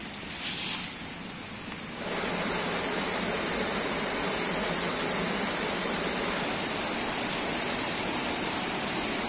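A large waterfall more than 20 metres high in the upper Uch-Kosh gorge roars with a steady, loud, broadband rush, growing fuller and closer after the first two seconds and continuing unbroken.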